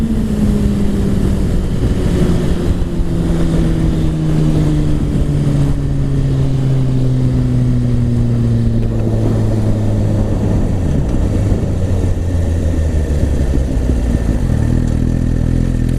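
A Suzuki GSX-R1000 motorcycle engine on a road ride holds a steady, loud drone that eases gradually lower in pitch as it slows down, with no talking.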